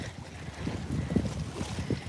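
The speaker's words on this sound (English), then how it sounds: "Listen to the sound of the waves." Sea waves wash steadily against the shore at Dubrovnik, Croatia, at sunset, a constant close wash mixed with wind rumble on the microphone.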